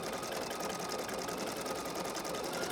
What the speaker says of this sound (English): she's going to start stitching my hearts and making a shape